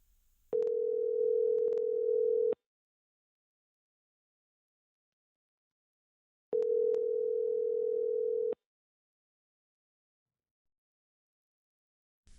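A telephone dial tone sounds in two steady, loud bursts of about two seconds each, separated by a long silence, with no voices.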